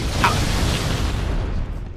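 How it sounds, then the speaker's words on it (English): A deep booming blast in the video game Halo hits early, then rumbles and fades into a low, dull roar. "Do you hear that explosion?"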